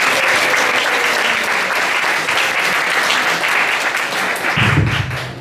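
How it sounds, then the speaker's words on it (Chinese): An indoor audience at an open-source software community talk in Kaohsiung claps warmly to welcome a speaker, with dense, loud, steady applause that lasts several seconds before tapering into a murmur. "我们就用热情的高雄式的掌声来欢迎"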